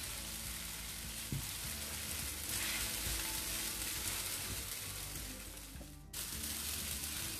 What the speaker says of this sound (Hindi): अब इसमें नमक शक्कर डाल के हमें अच्छी तरह से मिक्स करना है।